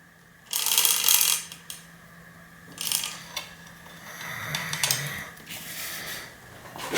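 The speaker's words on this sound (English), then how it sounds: "Run it up through the cage, around the tension pulley." A mountain bike chain fed through the derailleur cage and around the tension pulley on a Fuji Nevada. Close, light metallic clinks and rattles come in short bursts with quiet gaps between them.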